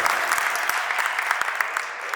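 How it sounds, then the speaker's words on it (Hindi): Audience clapping loudly and continuously at a religious family gathering honoring a Varshitap fast, dense hand claps filling the space without voices. "थोड़ी जोर से बजाइए तालियां, पता चलना चाहिए सबको।"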